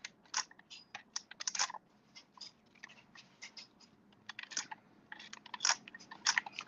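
Adhesive tape being applied to a paper card, a run of close crinkly crackles and sticky tearing rasps in irregular bursts, quiet and without talk.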